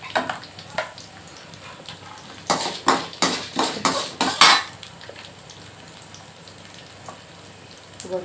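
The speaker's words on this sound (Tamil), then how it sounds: "இது போட்டு நல்லா வறுத்து எடுத்துக்கோங்க" Urad dal fried in a pan for raw mango chutney, with a cluster of sharp crackling, clattering bursts in the middle against a quiet kitchen background.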